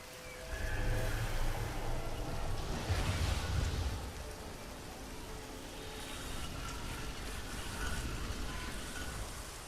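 A waterfall rushes in the video game Adera, a broad steady wash of water noise at moderate loudness, continuous throughout with no speech.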